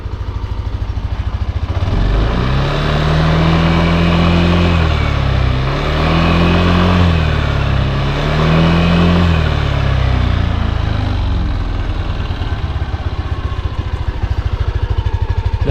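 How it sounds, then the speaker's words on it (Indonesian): A Yamaha NMAX Neo scooter with oil poured into its exhaust revs hard at close range, its engine note climbing and falling in several repeated surges over a constant loud idle rumble, with no talking. "gua geber-geber nih"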